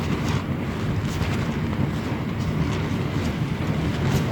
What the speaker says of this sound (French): le vent vraiment il me massacre